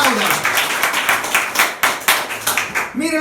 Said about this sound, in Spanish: Apláudalo.